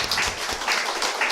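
A church congregation claps during a morning worship service to welcome newcomers, a brief, full burst of applause from many hands, steady and fairly loud.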